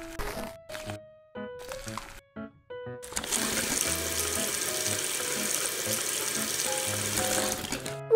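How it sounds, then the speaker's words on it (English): Tap water running steadily into a sink while raw chicken is washed for a miniature spicy chicken thigh recipe, a continuous close splashing hiss after a few short clinks and bumps, with no talking. "Put them in faucet."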